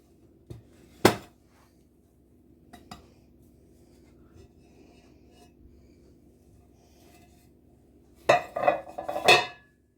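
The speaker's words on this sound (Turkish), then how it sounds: "Arkadaşlar kekimizin üzerine bir servis tabağımızı alıyoruz. Ters çeviriyorum." A serving plate set onto a cake in a tart mould and flipped over gives a few sharp ceramic clinks and knocks, isolated taps early, then a quick cluster of clattering contacts near the end in a quiet kitchen.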